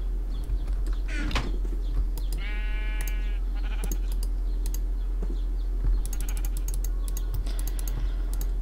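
A sheep in the Minecraft video game bleats a few times, a wavering nasal cry near the middle, set among scattered clicky keyboard-like taps and a steady low hum; no talking.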